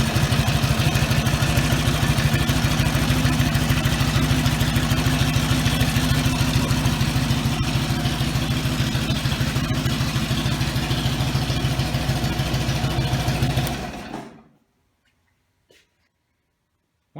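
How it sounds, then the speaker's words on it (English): An Indian motorcycle engine fires on the electric starter and settles into a steady, throbbing idle close by, running loud and even for about fourteen seconds before it is shut off and falls silent apart from a faint click. "Turn the ignition on 1 notch. Press the electric starter button."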